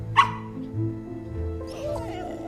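A single short dog bark rings out near the start, with a faint whimper afterward, over low background music and room tone.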